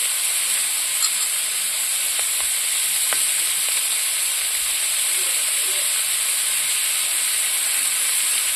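Spices sizzle steadily with chopped tomato in a pan while mocha chicken cooks, a close, continuous frying hiss with a few faint stirring clicks and no voices.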